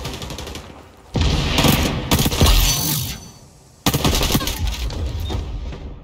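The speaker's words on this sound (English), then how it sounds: "This is a very weird gun." Rapid bursts of gunfire from an unusual sticky-round gun in the shooter game XDefiant, loud and close, in two long clattering volleys separated by a brief lull.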